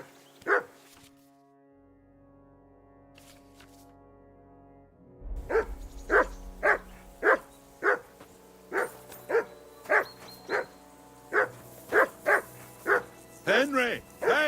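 A dog in Kingdom Come: Deliverance 2 barks repeatedly in a steady, insistent rhythm, fairly close, over faint game ambience and occasional voices.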